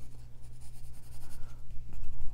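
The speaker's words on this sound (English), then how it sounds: "we're gonna go ahead and just kind of give that some shading" Pencil lead shading across paper while a car drawing is rendered, a steady close scratching with short rhythmic strokes and no voices.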